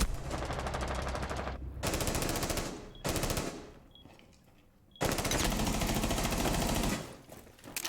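Rapid automatic gunfire in a first-person shooter video game, loud close bursts of fast repeated shots broken by short pauses, with one long sustained burst near the end.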